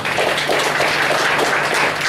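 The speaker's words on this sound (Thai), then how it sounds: "ให้เราปรบมือถวายพระเจ้า" A church congregation claps together in praise to God during a testimony service, a dense, steady wash of many hands close by, filling the whole moment without pause.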